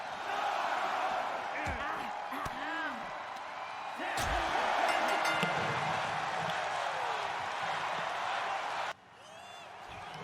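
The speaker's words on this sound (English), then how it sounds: "you heard the crowd, ladies and gentlemen, chanting" A large crowd roars and chants together in a big arena at a deathmatch wrestling event, steady and loud throughout, with a couple of heavy slams and thuds cutting through.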